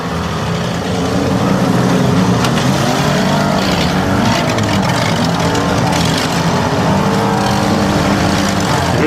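Demolition derby cars rumble and rev around a dirt ring at a Tuscarawas County, Ohio fair, several engines droning and surging together in a continuous loud mechanical roar.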